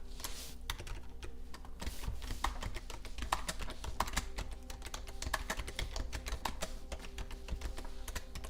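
Rapid typing on a computer keyboard, a dense stream of sharp key clicks over a steady hum of background noise, close and continuous with no speech.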